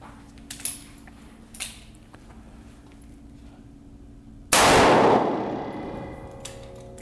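A .357 Underwood Extreme Penetrator round, a 140-grain solid copper bullet at 1,550 feet per second, strikes steel body armor with one sharp, loud, close clang that rings and fades out over about two seconds, after a few faint earlier knocks.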